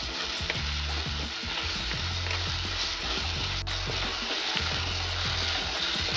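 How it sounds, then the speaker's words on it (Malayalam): Chopped tomatoes sizzle steadily in a hot pan for a Kerala-style karimeen fish curry, with scraping spoon strokes as they are stirred, close and continuous with no voices. "പിന്നെ തക്കാളി ഇട്ട് നന്നായി ഇളക്കുക"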